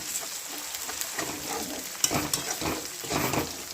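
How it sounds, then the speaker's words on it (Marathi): Ground spice paste, pounded in a mortar, fries in a pan for pav bhaji. It gives a close, crackling sizzle broken by scraping stirs and a sharp clink about halfway through. "त्याला असं परतू देऊ आता."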